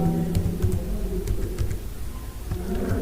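A short run of keyboard clicks as CSS code is typed on a computer, light taps over a steady low background hum.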